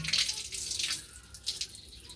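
Tap water runs steadily into a kitchen sink while ingredients for moong dal are washed, a close, continuous splashing rush with small fluctuations.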